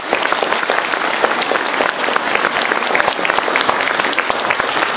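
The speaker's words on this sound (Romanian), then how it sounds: "Haideți să aplaudăm!" An audience at a Mărțișor 2018 celebration in Coșnița, Dubăsari, breaks into steady, dense applause from many hands, sustained and fairly close throughout, with no speech.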